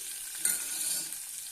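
Tempering spices crackle and sizzle in hot oil as chopped onions go into the pan, a brief, steady frying hiss with one sharper burst near the start, close by and with no talking.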